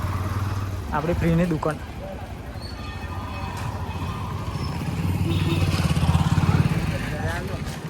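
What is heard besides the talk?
motorcycle arriving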